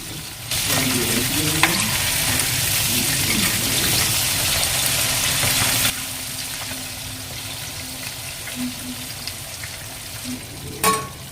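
Pieces of fish fry in hot oil spiced with extra chili powder, giving a loud, steady sizzle and crackle throughout, with a stirring clatter near the end.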